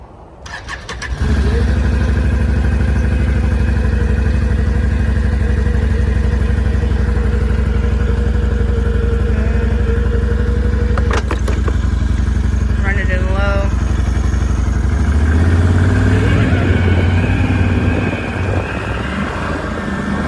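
A Can-Am Outlander X-mr 570 ATV engine starts with a clatter and settles into a loud, steady droning idle close by, then revs up with a rising roar as the ride begins.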